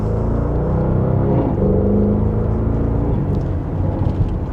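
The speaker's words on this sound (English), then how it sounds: "hopefully the microphone can pick up the downshifts with how the exhaust sounds" A 2026 Porsche Cayenne GTS in Sport Plus second gear rumbles with a deep, steady exhaust drone from inside the cabin, rising and settling through mild acceleration and downshifts with no talking.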